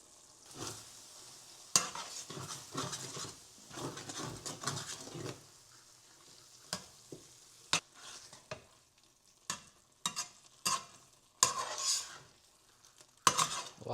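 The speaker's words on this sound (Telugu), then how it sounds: "లాస్ట్లో ఇక ఫైనల్ టచ్గా కొత్తిమీర వేసి ఇంకోసారి కలబెట్టుకుందాం." Spatula scraping and stirring paneer bhurji with fresh coriander in a frying pan, irregular clinks and scrapes over a soft sizzle, with sharp metallic taps punctuating the mixing.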